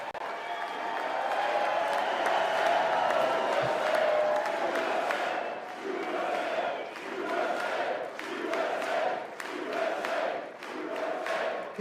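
A large audience claps and cheers at a State of the Union address, a loud sustained wave of applause and whoops that swells, then breaks into rhythmic bursts of clapping that rise and fall in pulses.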